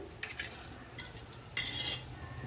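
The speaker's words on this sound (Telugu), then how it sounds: "మధ్య మధ్యలో కలుపుతూ మధ్యలో ఒకసారి కలుపుదాము" Metal utensil scraping and clinking against a pan of broad bean curry in a few short strokes, with a brief louder burst of stirring near the end.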